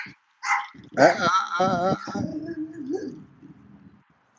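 A large Swiss Mountain Dog of about 140 pounds lets out a few loud, close barks, the first short and sharp, then a longer whiny yelp that trails off into a low whimper.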